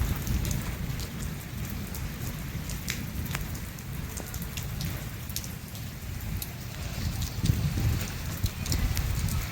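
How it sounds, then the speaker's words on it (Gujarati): Heavy rain drums steadily outside a house during an out-of-season shower, a dense continuous wash with scattered droplet ticks and a low rumbling undertone, no voices. "જો વરસાદ ચાલુ છે,"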